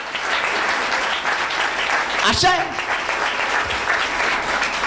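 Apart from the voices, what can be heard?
church congregation clapping hands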